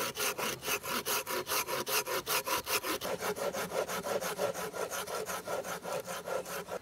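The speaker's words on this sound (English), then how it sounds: "I'll take my saw and just make a score mark on the bottom side." A hand saw cuts a score mark into wood, with about twenty quick, even back-and-forth rasping strokes heard up close and alone.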